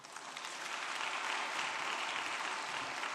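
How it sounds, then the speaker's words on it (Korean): A church congregation applauds to welcome a pastor, a steady wash of many hands clapping, fairly faint and distant throughout. "여러분 뜨거운 박수로 환영해 주시기 바랍니다"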